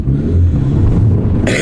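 A VW Golf Mk3 Variant estate fitted with a new exhaust revs with a deep, loud, close rumble, holding steady before a sharp brief burst at the end.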